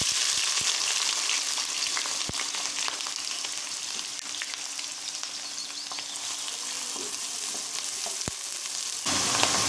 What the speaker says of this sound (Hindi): हमारा ऑयल हो चुका है गर्म। अब इसमें हमने डालना है प्याज।